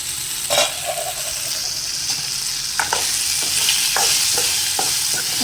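Food frying under a lid in a pan, a continuous bright hiss of sizzling oil with occasional faint clicks and taps, steady and moderately loud throughout, no voices.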